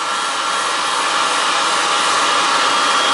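A heat tool blows loud, steady hot air onto solder on a CPU chip during gold recovery, a constant broadband roar with no pauses or voices.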